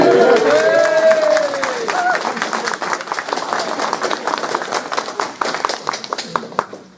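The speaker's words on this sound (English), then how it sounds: "Big cheer for David Duke." Conference audience cheering and clapping at a talk, a dense burst of applause with a few shouted voices over it at the start, steady rapid claps that thin out toward the end.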